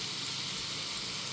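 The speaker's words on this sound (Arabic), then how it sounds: "نقلب بقى الجمبري بتاعنا كده تقليبه" Shrimp sizzle and fry in hot oil in a pot while being stirred, a steady close crackling hiss that stays constant for the whole short moment with no talking.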